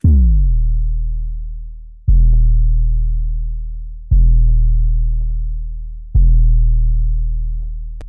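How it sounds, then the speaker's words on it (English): Deep booming 808 bass from a type beat made in FL Studio, four long gliding hits about two seconds apart, each swelling loud then slowly decaying, with faint ticks between them and no voices. "the 808 is going to sound like this"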